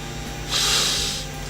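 One close, breathy nasal sniff over a drink, rising and fading in about half a second against a quiet room hum.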